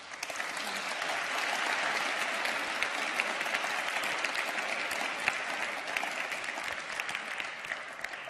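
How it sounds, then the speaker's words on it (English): A hall full of conference attendees claps for a panel of speakers in a spending-priorities session, giving a dense, even round of applause that holds steady throughout with no speech over it. "Perhaps a round of applause for our panelists, please."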